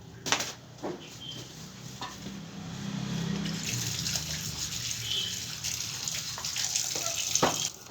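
Tap water runs steadily into a sink as pieces of cut fish, pabda and small carp, are rinsed, a continuous splashing gush with a few sharper spatters and knocks against the basin, close by and without speech.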